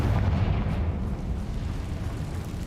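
Confringo fire spell blast in Hogwarts Legacy, a heavy, sustained rumbling roar of explosion and fire, loudest at the start and slowly easing off, with no voices.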